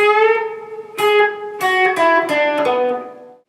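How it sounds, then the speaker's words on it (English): Guitar playing the 'Jack Straw' riff by the Grateful Dead, picked notes ringing close and clear, with a bend that is muted right at its peak before the phrase trails off. "If you notice on that bend, I'm muting it right at the top"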